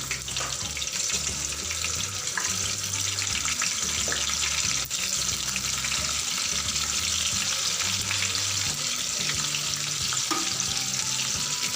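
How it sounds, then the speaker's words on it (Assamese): Paneer cubes fry in hot oil in a pan, giving a dense, steady sizzle with crackling and faint scraping, loud and close throughout with no talk. "পনীৰখিনি মই ফ্ৰাই কৰিবলৈ দিছোঁ"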